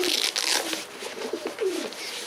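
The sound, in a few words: bird calling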